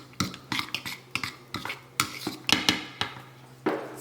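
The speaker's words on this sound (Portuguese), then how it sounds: "Você vai untar sua panela ou sua frigideira para poder preparar a sua receita no fogão com mais rapidez" Metal pots, pans and utensils clatter in a kitchen as a pan or skillet is greased before cooking an oat-based, gluten-free recipe on the stove, with a dozen or so sharp, irregular clinks and scrapes close by and no talking.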